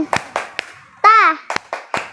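A few sharp hand claps in a loose rhythm, with a child's short vocal cry in the middle.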